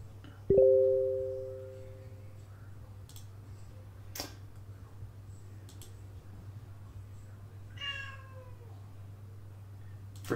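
A cat meows in the background of a quiet room, first one drawn-out cry near the start, then a shorter, fainter meow later, over a low steady hum with a few soft clicks.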